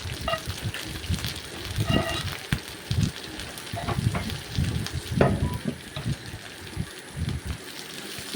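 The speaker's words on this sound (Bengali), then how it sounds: "সজনে শাক বা সজনে পাতা কড়াইয়ের মধ্যে ছেড়ে দিচ্ছি" Moringa leaves fry in a wok with a steady crackling sizzle, broken by louder bursts and stirring scrapes, close and fairly loud throughout with no talking.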